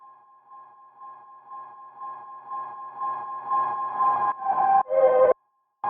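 A sustained, pitched synth lead tone hums steadily, growing louder and fuller with buzzy overtones before cutting off abruptly.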